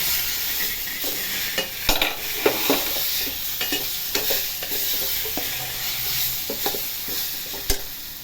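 Raw mango thecha, a coarse Maharashtrian chutney, being stirred in a hot pan: a steady sizzle throughout, broken by repeated scraping and clinking of the spoon against the pan, close and fairly loud.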